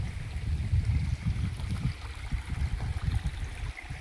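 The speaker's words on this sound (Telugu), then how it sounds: "కానీ వాటర్ అయితే ఫ్లో పోతూనే ఉంది" Water flowing over rocks in a small pool high on a hilltop, a close, steady gurgling stream with a low rumbling churn and no voices.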